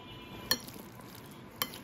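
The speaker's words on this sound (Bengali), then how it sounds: "এখন আমি এগুলো সব একসাথে মেয়োনেজটা আমি একসাথে মিশিয়ে নেই" Ingredients being stirred together with mayonnaise for chicken shawarma, a quiet, soft mixing sound in a bowl punctuated by two sharp clinks of a utensil against the dish.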